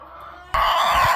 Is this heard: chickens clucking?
yes